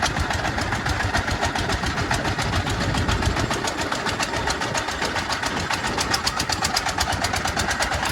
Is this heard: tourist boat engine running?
yes